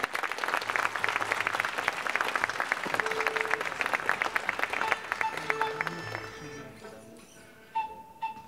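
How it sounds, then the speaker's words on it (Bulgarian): Audience applause at a choral night concert welcoming a choir, dense clapping from a large crowd that fades out toward the end with some murmuring voices. "Да ги посрещнем с аплодисменти."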